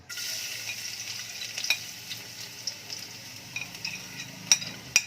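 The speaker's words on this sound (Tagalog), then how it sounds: "mainit na po yung ating mantika. Ayan, ilalagay na po natin yung ating, unahin po natin yung ating bawang." Garlic dropped into hot cooking oil, giving a soft continuous sizzle with a few sharp pops and clinks of a utensil, close but fairly quiet, no talking.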